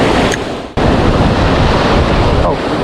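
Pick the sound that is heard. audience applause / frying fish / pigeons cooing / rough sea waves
rough sea waves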